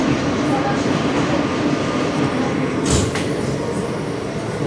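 An NYC subway F local train bound for Coney Island–Stillwell Avenue gives a steady, loud rumble of rolling wheels and car noise, with a brief hiss or squeal partway through.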